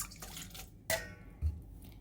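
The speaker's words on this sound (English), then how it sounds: "So I'm going to go in with the water next." Water pours and drips into a bowl while making pizza dough: a faint trickle, then a sharp splash and a low plop, close by and quiet, with no talking.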